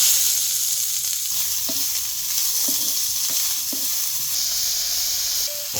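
Chopped onion fries in two spoons of oil with cumin seeds for a filling, giving a steady, loud sizzle throughout, with a few soft stirring knocks and no talk.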